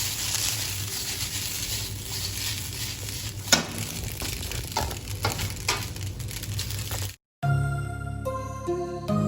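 Noodles, chicken and vegetables stir-fried in a pan: a steady, close sizzle with scraping and tossing sounds, a few sharper clanks, then a sudden cut to a quieter, different sound near the end.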